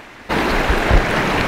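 The water of Bay Creek in Shawnee National Forest rushes in a loud, continuous broadband wash that starts abruptly and stays steady, with some wind buffeting the microphone.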